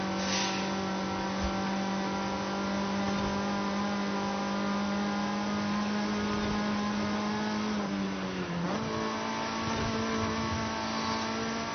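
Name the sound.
Mazda MX-5 ND 2016 engine accelerating while driving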